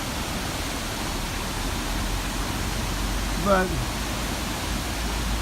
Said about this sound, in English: decided to come this way to see the extra waterfall